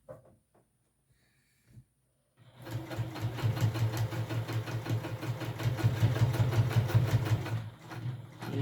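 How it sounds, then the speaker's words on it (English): Sewing machine top stitching all the way around a bag, a loud, steady mechanical whir with a fast needle rhythm running for several seconds after a quiet start. "So we'll just top stitch all the way around"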